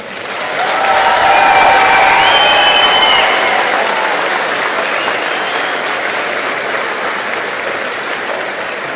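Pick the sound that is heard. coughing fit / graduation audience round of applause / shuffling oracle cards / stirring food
graduation audience round of applause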